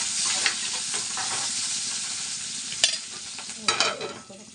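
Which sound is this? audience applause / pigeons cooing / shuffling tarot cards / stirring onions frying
stirring onions frying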